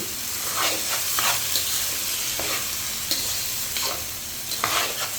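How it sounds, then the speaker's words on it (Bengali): Rice frying in a pan for egg and potato khichuri, a steady close sizzle with repeated scraping stir strokes throughout, no voices. "আমি চাউলগুলো ভালো করে ভেজে নিচ্ছি"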